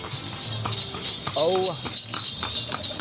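A horse clip-clops along a road on Gili T island, passing close behind a rider, hooves tapping in a quick irregular rhythm under a man's brief exclamation and steady outdoor noise.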